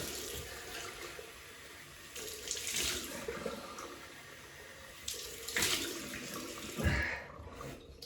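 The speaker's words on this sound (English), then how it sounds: "Cold water rinse, Alum." Cold tap water running into a sink for a face rinse during a wet shave, a steady broadband hiss with a few louder splashy surges as hands pass through the stream.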